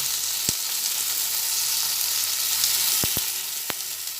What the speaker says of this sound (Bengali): এরপর আবার সব একসঙ্গে ভেজে নিচ্ছি